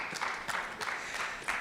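Audience applause at a national ICT week conference session, a soft, fairly distant wash of clapping with a few louder bursts, heard briefly and without talk.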